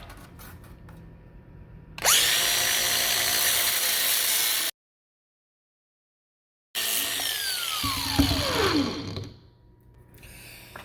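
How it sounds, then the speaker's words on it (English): An angle grinder cuts through countertop quarter round trim in two loud, steady bursts separated by a brief silence. The second burst winds down audibly as the disc spins to a stop. "I'm gonna go ahead and cut it off with the grinder."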